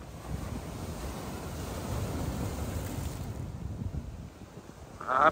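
Strong high-tide surf at Boa Viagem beach in Recife rumbles in a continuous wash, mixed with wind buffeting the microphone, easing slightly before a brief louder gust at the end.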